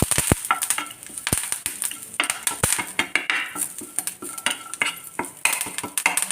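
Curry leaves fry in asafoetida-flavoured oil in a pan while a spoon stirs them, giving a continuous crackling sizzle broken by repeated sharp metal scrapes and taps, with no talk.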